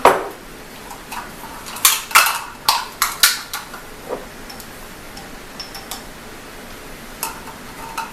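Metal teaspoons clink and tap against a container while yeast is measured out, several sharp, close knocks in uneven bursts followed by lighter scattered taps, with no one talking.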